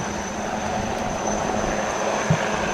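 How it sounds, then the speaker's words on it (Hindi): A UH-3H helicopter flies during a Navy Day demonstration off the Visakhapatnam coast, giving a steady, continuous engine and rotor drone that stays at an even loudness, heard at a moderate distance with no talking. "you can also see the UH-3H helicopter providing air cover to the Marine Commandos as they embark upon the ALH once again"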